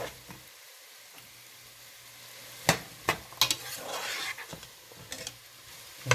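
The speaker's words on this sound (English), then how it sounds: "we're going to give it a little stir" Vegan jambalaya with cauliflower is stirred in a pot over a low sizzle. A spoon scrapes and knocks against the pot in a few sharp, irregular strokes close by, and there is no talk.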